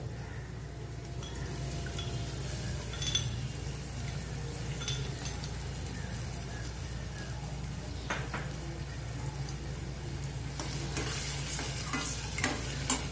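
Tomato puree hits frying onions in a pan and is stirred, giving a steady, soft sizzle with scraping spoon strokes and an occasional clink throughout.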